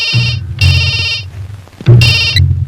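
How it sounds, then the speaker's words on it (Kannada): A telephone rings in loud, close bursts, three trilling electronic rings with short pauses between them, with no talk over it. "ಸರ್, ಕಮಿಷನರ್ ಸಾಹೇಬ್ರು ಫೋನ್."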